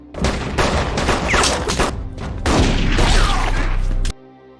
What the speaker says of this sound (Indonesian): Kontak senjata terus berlanjut.